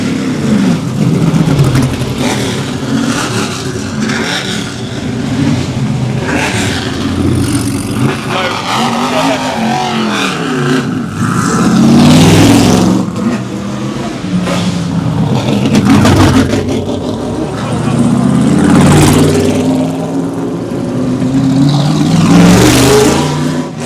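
American V8 cars fire up and rev at the Goodwood Festival of Speed, with loud, deep engine roars rising and falling in repeated blips and surges. Talk and crowd noise mix in across the long stretch.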